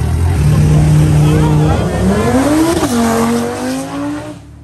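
A loud red Lamborghini RS accelerates hard at a track, its engine roaring close by and rising in pitch through the gears, with voices faintly underneath.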